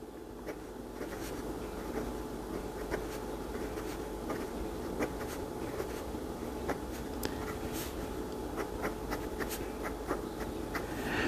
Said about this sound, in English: I'm going to be quiet and see if you can hear this pen writing as I do.